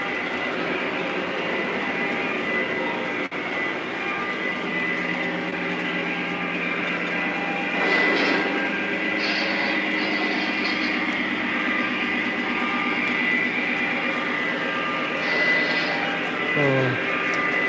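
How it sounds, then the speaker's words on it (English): Lionel model trains running on a home layout, including a B6 switcher, giving a continuous low rumbling hum of motors and wheels on track, with faint clicks and a voice talking at times. "Catch the B6 switcher moving around. Some trains coming through the main room."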